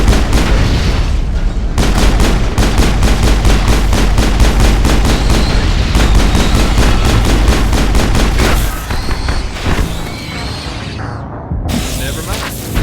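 Rapid, loud bursts of automatic gunfire in the Mass Effect game during a firefight in the Hot Labs, regular sustained volleys that break off near the end into scattered shots and quieter ambience, with a voice talking briefly.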